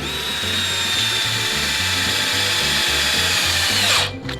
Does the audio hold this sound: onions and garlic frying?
no